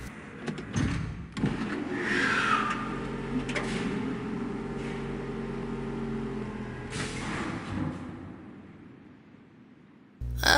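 A maglev car ride on Riven's Crater Island in a puzzle adventure game: a steady mechanical hum and whir with a rising whine, clanks and thumps at the start, fading toward the end before a sudden loud thump.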